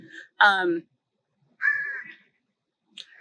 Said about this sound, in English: Sorry, the crows are here. They want food.